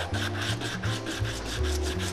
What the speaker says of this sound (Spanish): con una lija, vamos un poco lijando